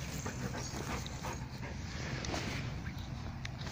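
A dog whimpers and pants steadily while chasing a rabbit outdoors, its eager breathy sounds continuous over rustling and a low wind rumble.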